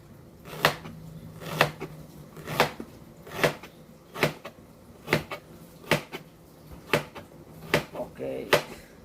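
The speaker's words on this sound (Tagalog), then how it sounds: "hiwain ang luya" A knife cutting peeled ginger on a board for sinigang sa bayabas na bangus, about a dozen crisp, evenly spaced chops landing close and distinct, with a faint hum beneath.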